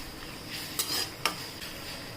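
Onion goes into a pan with ginger-garlic paste and is stir-fried, giving a soft, quiet sizzle with two sharp clicks of a spoon against the pan and lighter scraping in between.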